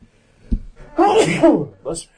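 A single close, sharp human sneeze bursts out after a short intake of breath, followed by a brief trailing exhale or murmur.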